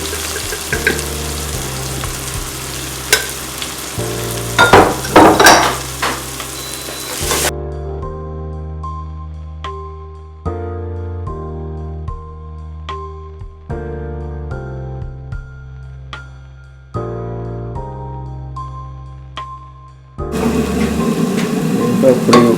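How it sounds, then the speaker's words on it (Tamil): Tomatoes frying in a pan with spice powder sizzle loudly at first, give way to a long stretch of music, then sizzle again at the end. "தக்காளி கொஞ்சம் வதங்கிட்டுது. இனி தூள் போட்டு"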